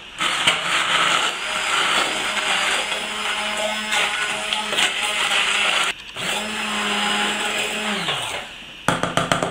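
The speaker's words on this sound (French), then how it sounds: "Et on va passer tout ça au mixeur plongeur." An immersion blender whirs loudly through a cream sauce for chicken ballotines with port sauce, a steady motor drone that stops briefly and restarts, ending with a few short pulses.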